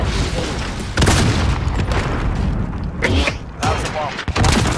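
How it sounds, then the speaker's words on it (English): Bomb explosions in the game Call of Duty: Modern Warfare land as a series of loud, close booms, several heavy blasts in quick succession with brief gaps between them. "That was a bomb"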